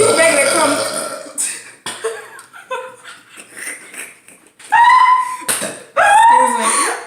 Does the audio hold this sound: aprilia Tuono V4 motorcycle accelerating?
no